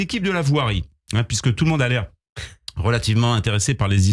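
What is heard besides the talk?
None of the usual background noises is heard.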